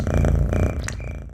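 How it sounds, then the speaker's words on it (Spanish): A cartoon demon character purring like a cat, a steady low rumbling purr heard alone over about a second and a half, gradually fading. "Blitz parece tener la capacidad de ronronear como un gato."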